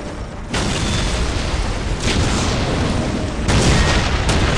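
Dense, continuous battlefield barrage from orc artillery in Warhammer 40,000: Dawn of War, a loud wall of booming blasts and rumbling gunfire rolling on with surges of fresh impacts, no voices over it.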